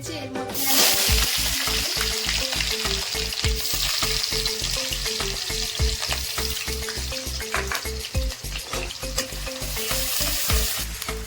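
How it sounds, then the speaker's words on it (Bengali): Mustard oil sizzles hard in a hot wok, a loud, continuous crackling fry close up, broken by a regular run of stirring or scraping strokes throughout. "এবার আমি কড়াই সর্ষের তেল দিয়ে দেবো"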